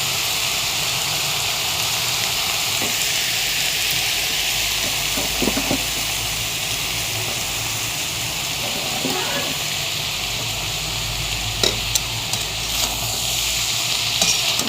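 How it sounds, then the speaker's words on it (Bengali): Rice is fried and stirred in a wok, giving a loud, steady sizzle broken by occasional scraping clicks of the spatula. "অল্প অল্প একটু ভাত দেব আর অল্প অল্প একটু করে নাড়ব"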